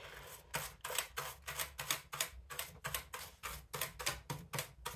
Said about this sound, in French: on passe la brosse comme ça dessus, dans le sens pour ouvrir les clapets